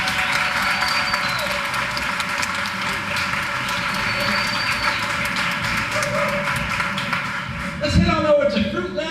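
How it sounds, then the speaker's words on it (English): An audience at a teacher of the year awards ceremony claps in steady, dense applause throughout, fairly loud and even, with a voice and some shuffling near the end. "Let's give him a big round of applause."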